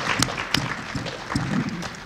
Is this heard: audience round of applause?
yes